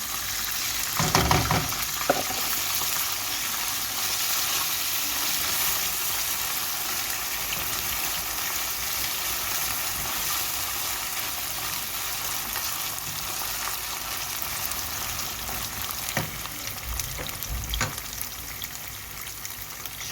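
Pilaf rice poured into a frying pan and stirred, a steady close sizzle and frying hiss running throughout, with a couple of louder scraping stirs near the start and again toward the end.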